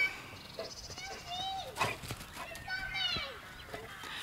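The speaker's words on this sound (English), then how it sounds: "And here's the dog." A dog at a garden allotment gives a few rising and falling whines and yelps, close and moderately loud, scattered over several seconds with a person talking in the background.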